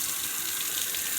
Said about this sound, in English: This is cool water running